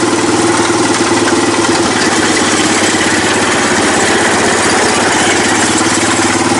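A Troy-Bilt riding mower engine runs steadily at a loud, close idle with an even, throbbing rumble and mechanical vibration, unbroken throughout with no talking.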